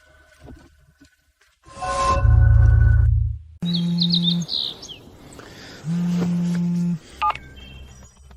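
A phone ringing with bright electronic tones, starting with a loud low buzz and then sounding in two sustained bursts separated by short chirping trills, close and with no talk over it.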